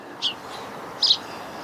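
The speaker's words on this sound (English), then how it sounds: "Birds are very chirpy today." Two brief, bright bird chirps in spring near a roadside bus stop, spaced about a second apart over a quiet outdoor background.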